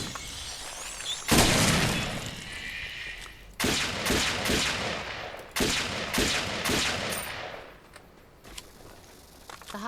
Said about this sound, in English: We're gonna go to our semi-auto. For fast firing.